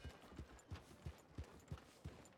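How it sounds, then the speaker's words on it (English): Horse hooves clip-clop at a steady walking pace in Red Dead Redemption 2, about seven soft, evenly spaced thuds from a horse moving through a town, with no talking over them. "Don't want to scare anybody by making my horse run too fast."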